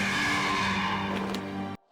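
A car skids in a Doctor Who episode, a loud, sustained, tonal tire squeal lasting nearly two seconds before cutting off abruptly into near silence.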